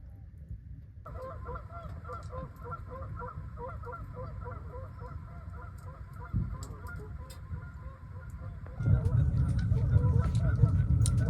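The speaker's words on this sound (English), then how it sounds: "Why can't geese just be geese and hang out and chill? They have to just make noise their entire day." Geese honk repeatedly in a steady chorus at moderate distance beside a snowy lake, over low rumbling background noise that grows louder near the end.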